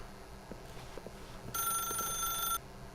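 A telephone rings in The Stanley Parable: one bright, loud burst of ringing lasting about a second, over a quiet room tone with a few soft footsteps before it.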